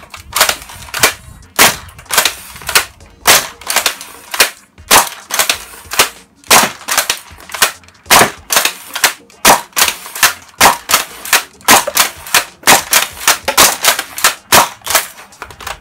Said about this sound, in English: it fired off all 12 darts with no problem whatsoever